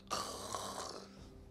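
A human voice imitates a couple of people snoring inside a tent during a tabletop fantasy role-play game, giving a single quiet, drawn-out rasping snore.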